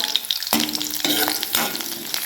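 Onion sizzling in hot oil with black pepper, cloves, a cinnamon piece and a bay leaf, a steady close frying hiss broken by regular scraping stirs of a spoon in the pan, with no voices.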